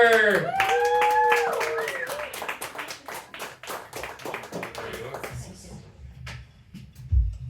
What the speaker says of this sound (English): Please give a big round of applause and a very warm welcome to Paula Kelleher!